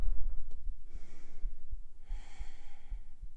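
Deep, slow breaths during a beginner yoga twist, with two long airy exhales standing out clearly, close and fairly quiet against a soft room background.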